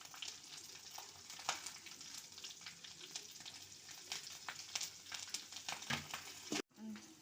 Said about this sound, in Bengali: এখন আমি শুকনো লঙ্কাটা ফোড়ন দিচ্ছি, জোয়ান, দিচ্ছি চেরা কাঁচা লঙ্কা